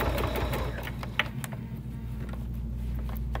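A sewing machine stitches binding in the ditch onto a bag, a quiet, fast mechanical patter running steadily with a single sharp click near the middle.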